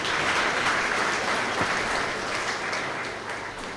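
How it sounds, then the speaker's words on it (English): Mourners applauding at a funeral service for a brigadier general, a broad, sustained roomful of clapping that stays full and even before easing slightly toward the end. "I request all of you to clap for these children."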